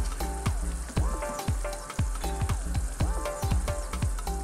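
Carrots and beans stir-fry in a pan for Filipino chicken bihon noodles, a loud, steady sizzle broken by rhythmic scraping and clinking as a utensil stirs the vegetables about twice a second.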